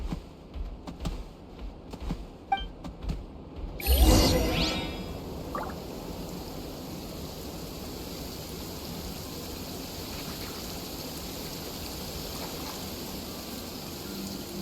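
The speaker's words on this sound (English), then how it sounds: "It's raining again?" Rain falls in the Genshin Impact game, starting with a sudden swell and settling into a steady hiss of rainfall that continues evenly after a few quieter opening seconds of sparse sounds.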